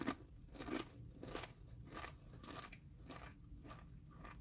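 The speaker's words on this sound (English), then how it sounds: "Sorry for my loud chewing." Someone chews a mouthful of homemade pineapple salsa loudly and close up, giving a steady run of soft, wet crunching bites at an even rhythm.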